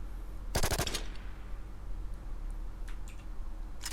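A Bison submachine gun with a 64-round magazine fires a short burst of about five rapid shots in the game Shattered Skies, followed by a few faint clicks and handling sounds over steady background hum.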